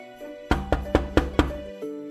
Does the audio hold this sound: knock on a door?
yes